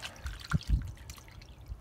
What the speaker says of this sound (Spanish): Ahora vamos a echarlo en agua, limón, y vamos a dejarlo en la nevera